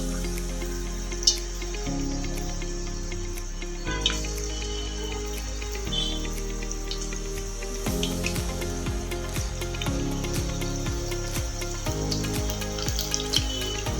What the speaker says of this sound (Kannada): ಬಿಸಿ ಆಗಿದೆ. ಬೋಂಡ ಹಾಕೊಳ್ಳೋಣ.